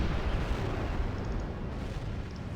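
Mortar cannon fire rumbles through a Medieval 2 Total War siege battle, a dense continuous low roar of distant blasts with no distinct single shots standing out.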